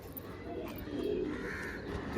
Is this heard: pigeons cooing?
yes